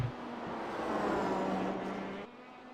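Race car engine droning steadily at racing speed on the final lap of an oval race, a sustained loud roar with a faint tonal hum that drops off near the end, no talk.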